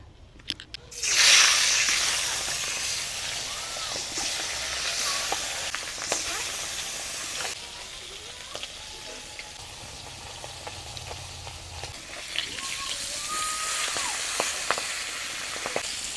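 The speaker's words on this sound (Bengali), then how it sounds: "মাছগুলো ভাজা হয়ে গেছে এবারে মাছগুলোকে তুলে রাখবো" Large river tengra fish frying in oil in a village kitchen: a sudden loud burst of sizzling at the start, then a steady bubbling fry with occasional soft clicks, close and unaccompanied by speech.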